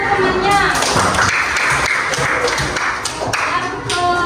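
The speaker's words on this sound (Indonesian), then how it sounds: "Tepuk tangan buat temannya." Schoolchildren clap for a classmate in an elementary classroom: a short burst of quick, loud hand claps close by, with a teacher's voice and children's chatter over it.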